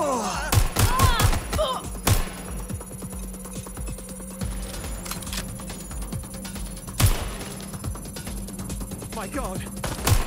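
Enemy gunfire in Watch Dogs Legion on PS5, several sharp, loud shots scattered across the stretch with a steady mechanical hum underneath.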